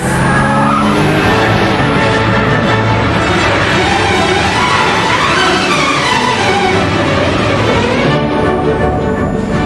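A works-prepared Aston Martin DB7 with traction control off drives hard across a wide open airfield, its engine roaring loud and close throughout while the tires skid and scrub continuously, with no talk.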